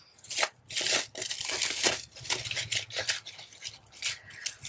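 Plastic wrap crinkles and crunches in a close, busy series of bursts as it is wadded up in the hands for pouncing ink onto a card.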